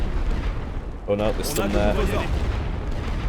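Artillery shells burst in a WWI trench battle in Elite Great War Western Front, deep rumbling explosions under a voice talking over them.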